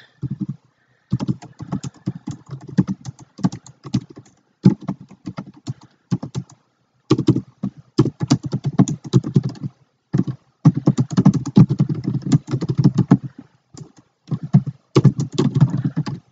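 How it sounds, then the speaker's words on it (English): Rapid clicking of keys on a computer keyboard as someone types, in bursts of keystrokes separated by short pauses, close and fairly loud with no talking. "Let me just type this in real quick."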